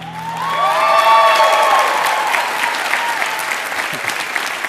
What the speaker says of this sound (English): You need to be clapping.